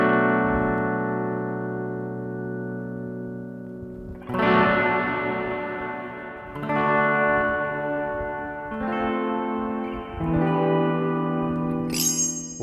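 Guitar chords played through the space reverb effect of a Line 6 Pod Express ring out in long, washy sustained tails, with a few fresh strums every couple of seconds, each blooming into dense shimmering reverb.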